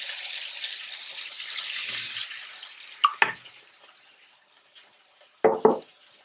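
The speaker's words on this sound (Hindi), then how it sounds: "मिक्स करने के बाद यहीं पर अब आप ऐड करेंगे पानी।" Water goes into a pan of spiced potato curry with tomatoes and red chilli, making a loud hissing sizzle that fades over a few seconds, followed by scattered sharp clinks and stirring knocks.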